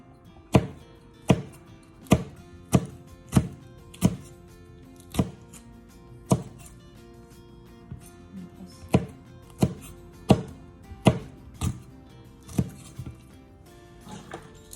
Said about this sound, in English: roughly slice chili pepper as well